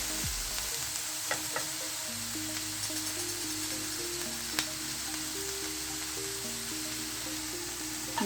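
Salt and curry leaves frying in a pan as the mixture is stirred, a steady soft sizzle with occasional scraping clicks of the spoon and a faint background hum.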